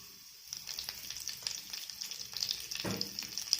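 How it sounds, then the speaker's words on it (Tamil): Mustard seeds and curry leaves crackle and sputter in hot oil with quick pops and a light sizzle, fairly faint and close, continuing for a few seconds without talk. "கடுகு கருவேப்பிலையும் நல்லா பொரியட்டும்"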